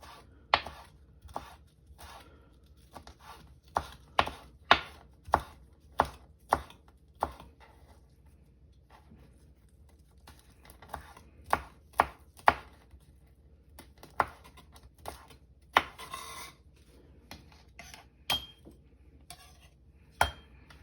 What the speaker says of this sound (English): we're gonna be chopping up our pepper and our basil leaf, and we'll be setting that aside to use later.